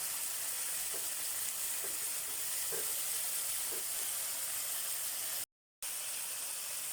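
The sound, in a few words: soy sauce sizzling with sautéed tomatoes in pan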